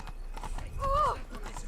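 Roach, the horse in The Witcher 3, trots up with light clip-clopping hooves and a brief whinny, heard over faint background game ambience.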